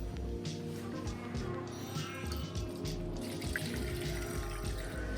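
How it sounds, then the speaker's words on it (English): Room-temperature brine pours over trimmed brisket in a pot as a steady close stream of splashing, gurgling liquid. "Now we're just going to add the brine"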